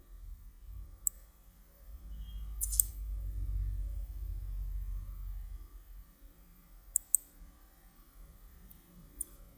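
Computer mouse clicks while working in Blender, a few sharp isolated ticks spaced apart over a low room hum, with no talking.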